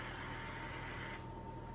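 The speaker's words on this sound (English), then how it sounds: "we need to spray it with that vegetable spray again" Vegetable cooking spray hisses from an aerosol can onto a cookie sheet in a short, close, continuous burst that stops abruptly.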